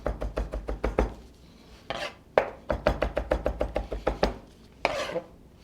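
A knife chops rapidly on a cutting board, mincing garlic for a lamb dish: bursts of quick, crisp taps in steady rhythm, with short pauses between runs, close and fairly loud, no talking.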